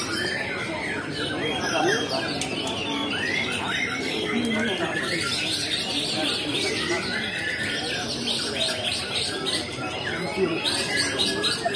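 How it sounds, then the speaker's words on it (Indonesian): Kacer songbirds at a bird singing contest, trilling and chirping constantly in a dense, overlapping chorus amid a noisy crowd, with people talking throughout. "Hanya burung yang gacor di atas, bukan pesertanya."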